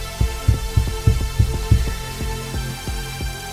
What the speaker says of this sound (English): Kick is serving as your buildup right here.